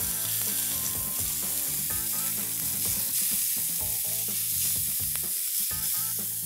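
Grain-fed beef sizzles in a little oil on a hot grill, a loud, continuous hiss carried steadily throughout with a constant tonal hum beneath it.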